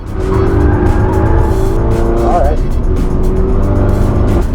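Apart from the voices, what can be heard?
race car tires skidding as overheated brakes fail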